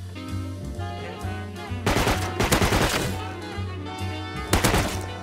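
Gunfire in the survival game Rust, several sharp bursts of rapid shots heard up close against steady music, loud clusters of cracks separated by short pauses, with a faint voice nearby.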